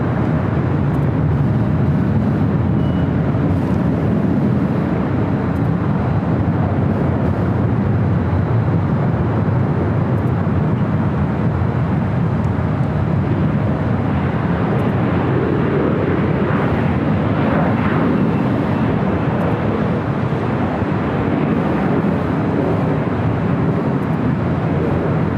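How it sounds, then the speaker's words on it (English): A WestJet airliner rolls down runway 24 left at LAX, a steady, broad jet roar that holds loud and continuous throughout, with no voices over it. "WestJet now rolling down to 24 left."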